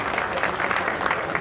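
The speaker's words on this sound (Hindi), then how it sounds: "एक बार जोरदार तालियों से इनका स्वागत करते हैं" Loud, dense applause fills a crowded political gathering in Delhi, a steady burst of clapping from many hands welcoming a local legislator, heard up close and unbroken.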